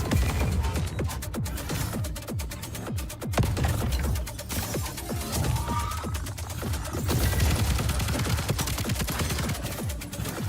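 Rapid bursts of gunfire from the cyberpunk destruction shooter Voidbreaker, dense and continuous across the whole stretch, with sharp repeated shots over a steady rumbling background and no talk.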